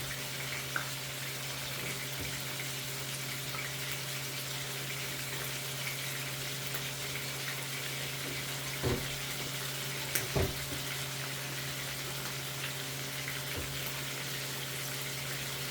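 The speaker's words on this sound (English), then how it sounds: "I'm not straining all of it because I want some of the liquid" Cooked macaroni is tipped into a strainer at a kitchen sink, giving a steady, fairly quiet wash of pouring water with a few soft clatters, and no voice over it.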